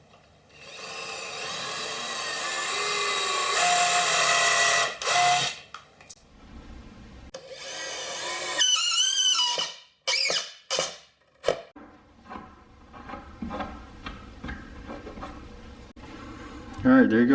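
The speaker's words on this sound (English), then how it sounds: "Then I can drill the screw in." A power drill drives a screw into wood for a basement bar build, with a long whirring run followed by several short bursts and clicks, and a person speaks between them.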